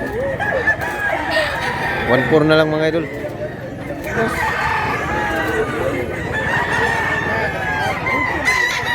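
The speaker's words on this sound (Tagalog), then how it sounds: "ang dami kasing manok mga idol" Roosters crow repeatedly at a busy chicken market in Mantalungon, Cebu, one loud nearby crow standing out midway, while someone talks over the steady din of birds.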